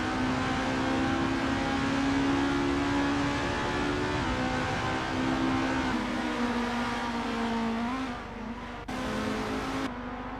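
Formula race cars screaming around Kyalami in Assetto Corsa, a steady, loud high-pitched engine whine with gear-shift drops and shifting pitch as several cars run close together, dipping briefly near the end.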